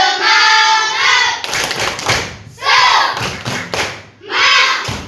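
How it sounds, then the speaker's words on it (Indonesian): A school class performs a rhythmic spirit clap in a classroom, loud bursts of chanting voices alternating with sharp group claps and thumps in a set pattern. "Coba kita tepuk semangat dulu."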